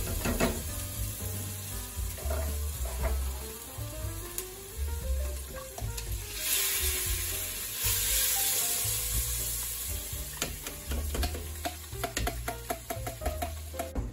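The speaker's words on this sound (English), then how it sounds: "A lot of vigorous stirring here." A spoon is worked vigorously through a pot of tomato and basil sauce made from four cans of tomatoes, with simmered garlic and onions, scraping and clattering against the pot over a soft, continuous sizzle.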